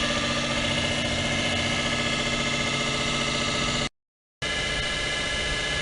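A 1000 watt electric motor powered by a 3S 12 volt 15 amp hour lithium module runs with a steady, dense whir and broadband hiss, cutting to silence briefly near the end before resuming.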